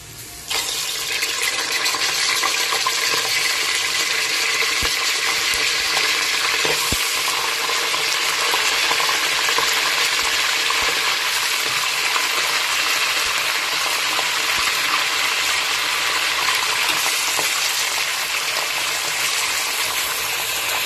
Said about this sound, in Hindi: गोश्त डाल के थोड़ी देर इसको फ्राई करेंगे ऑयल में, ताकि पानी इसका सूख जाए।